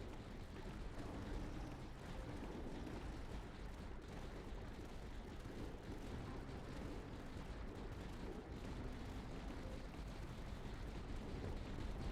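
Light mortars firing in the tower defense game Tower Dominion, a dense continuous rumble of overlapping booms and blasts that stays loud and even for the whole stretch, with no talk.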